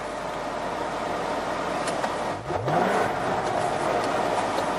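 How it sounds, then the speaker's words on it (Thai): A Chevrolet Corvette V8 rumbles steadily with broad engine noise, dipping briefly before a rising rev sweeps upward and settles back into a loud, sustained drone, no voices. "โดยเฉพาะเสียงดูเลยเสียง V8"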